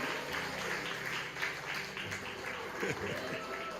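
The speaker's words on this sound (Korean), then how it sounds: "큰 박수 부탁드립니다" Church congregation applauding an award winner at a discipleship class graduation service, a sustained bed of clapping from many people with a voice speaking over it.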